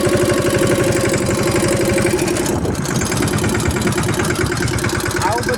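A tractor engine runs steadily at close range as it drives slowly forward, a loud rhythmic diesel chug throughout with a brief dip midway.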